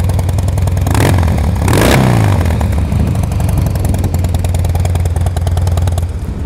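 A 2006 Harley-Davidson Softail Standard FXST with a twin cam 88 engine and 5-speed runs loud and close, with a steady rumbling idle, a brief rev blip near the start and a rhythmic lumpy beat throughout.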